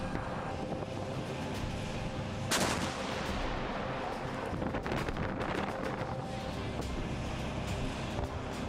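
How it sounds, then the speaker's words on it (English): An M109A6 Paladin self-propelled howitzer fires, a single sharp, loud blast followed by a rumbling echo over steady wind noise outdoors. "The M109A6 Paladin is capable of firing up to 4 rounds per minute to ranges of 30 kilometers."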